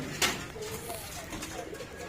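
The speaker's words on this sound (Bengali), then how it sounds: "দেখতে থাকুন আমার কবুতর সব।" Pigeons in a newly built pigeon farm give soft, low cooing, fairly faint and close, with one brief louder flutter-like burst near the start.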